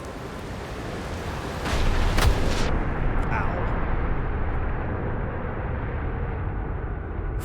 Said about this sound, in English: long-range probe cannon successfully launched from the orbital probe cannon